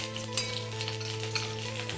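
Green chili fries in hot oil in a pan, a steady close sizzle with light crackling and faint stirring throughout, over a constant background hum.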